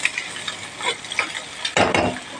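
Onions frying and being stirred in a pan while green chillies and salt go in, with steady sizzling and a few louder scraping stirs toward the end.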